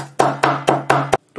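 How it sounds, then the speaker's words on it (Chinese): Flattened fresh ginger being minced with a kitchen cleaver, heard as five quick, sharp chopping knocks on a board in an even rhythm, close and loud with nothing else around. "再把生姜给它剁成姜末。"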